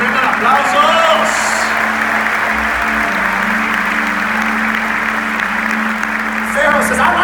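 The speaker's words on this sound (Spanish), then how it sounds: "se merece la mejor ofrenda de aplausos" Congregation applauding at a Casa de Dios church service in Guatemala, a steady dense wash of clapping that carries on for the whole stretch, with a voice talking over it at the start and again near the end.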